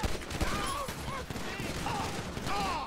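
Rapid bursts of gunfire crackle through a police patrol firefight in GTA V, dense and continuous across a few seconds, mixed with game noise and shouting.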